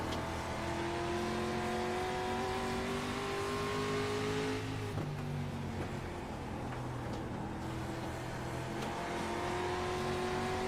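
Street stock race car heard onboard at South Boston Speedway, with a loud, continuous engine roar whose pitch climbs, drops as the driver lifts, then climbs again through the corner.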